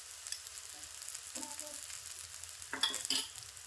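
Oil drizzled around gram flour batter in a hot pan sizzles faintly and steadily, broken by a few soft scraping and stirring sounds near the end, with no one speaking.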